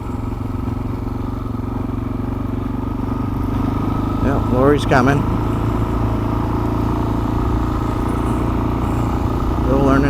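A motorcycle engine runs steadily nearby, its low drone persisting throughout while a rider still learning to handle it passes, with speech over the top and a brief burst of louder engine activity midway.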